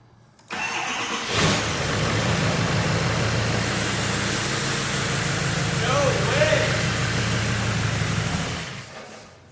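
A 2011 Duramax 6.6 LML diesel truck engine cranks and fires up, then settles into a steady, moderately loud idle before cutting off near the end, with brief voices in the background.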